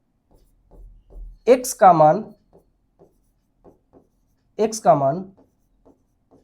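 Writing on a board during a Class 10 maths lesson on linear equations produces faint, sparse taps and short scratches. Someone speaks over it in two brief bursts.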